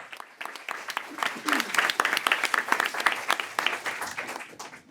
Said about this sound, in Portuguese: então também um grande aplauso por isso também